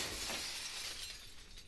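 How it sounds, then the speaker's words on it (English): Glass shatters in one bright crash, its hiss of falling shards fading out quickly, heard alone. "The sound of shattering glass wrenches me awake."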